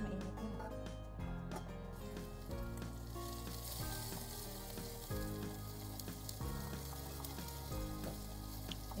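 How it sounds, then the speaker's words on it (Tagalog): Garlic sautéing in hot cooking oil in a pan while fish is prepared, giving a steady, continuous sizzle throughout with a tonal background music bed underneath. "Igisa lang siya sa bit hanggang sa mag-golden brown yung garlic."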